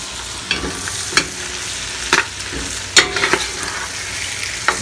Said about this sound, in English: Be careful when you're stirring this, that bacon will start popping